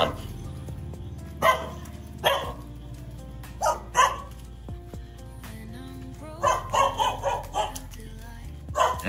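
Several dogs bark in short, sharp bursts, loud and close, with a few yips between volleys and brief pauses.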